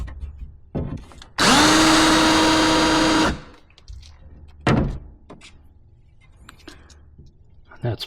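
A power drill whirs for nearly two seconds while driving a screw into a wooden deck hatch on a Cheoy Lee boat, loud and close. Thuds, handling noises and someone talking come before and after.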